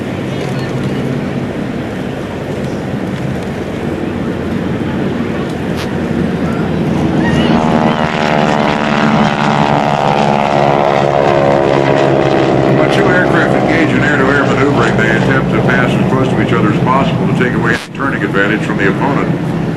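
GEICO Skytypers propeller aircraft make a low pass at the 2004 NAS Oceana airshow, their engine drone swelling into a loud, sustained roar that peaks and then fades, with a crowd-scale openness and an announcer voice over it.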